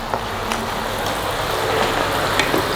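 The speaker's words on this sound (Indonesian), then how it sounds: "ini sekarang bawang dan juga cabai rawit daun bawangnya ini kita akan goreng." Shallots, bird's eye chili and scallions frying in hot oil, a steady close sizzle and crackle running throughout with a few sharper pops, no voices.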